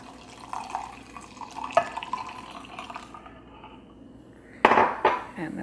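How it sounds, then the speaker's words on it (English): Water poured into a cup over powder with a spoon already in it, a soft trickle with a few clinks, then a louder splashing pour near the end, close and fairly quiet. "add my water."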